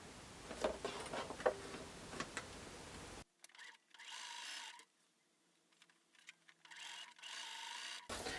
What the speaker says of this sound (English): Now I can go ahead and stitch these pieces together so that I can keep my chain going.